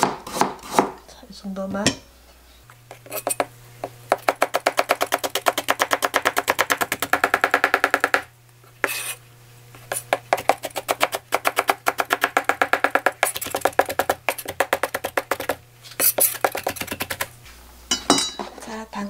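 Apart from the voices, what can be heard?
mincing carrots with a knife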